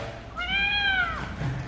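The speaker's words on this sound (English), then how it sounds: "What's up, kitty? Kit Kat" A single clear meow from a cat, rising and then falling over about a second, close and fairly loud, with light background noise and no talking over it.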